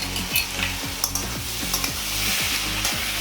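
Chillies being stirred through a Bengali chal kumro ghonto (ash gourd curry) in a cooking pan, with a steady sizzle of frying under repeated scraping strokes of a spatula, close and moderately loud, no talking.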